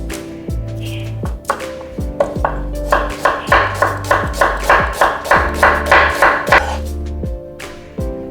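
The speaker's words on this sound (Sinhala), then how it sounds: "ලුණු කපනකොට දිග අතට හීනියට කපා ගන්න" A knife chops onions thinly lengthwise on a cutting board for a railway mutton curry, giving a steady run of crisp, regular, close-up chopping strokes, one after another with an even rhythm.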